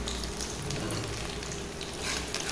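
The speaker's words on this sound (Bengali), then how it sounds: "সরিষার তেল আমি এখানে ইউজ করেছি এবং কুচি কুচি করা রসুনগুলোকে দিয়ে দিলাম।" Chopped garlic frying in hot mustard oil in a pan, a steady, dense sizzle that holds at an even level throughout with no voices over it.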